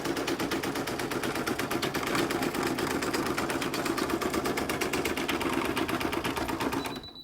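An embroidery sewing machine stitches a zip bag in the hoop, a loud, fast, steady mechanical needle rattle close by that runs continuously before stopping abruptly.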